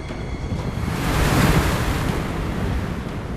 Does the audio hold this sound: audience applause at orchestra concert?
no